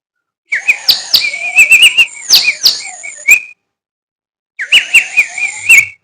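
A small water-filled bird whistle toy is blown in two loud, close bursts of warbling, trilling chirps that imitate a songbird, with a short silent gap between them.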